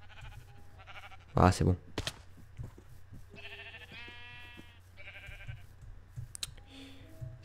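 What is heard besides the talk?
sheep bleating in a video game (Minecraft)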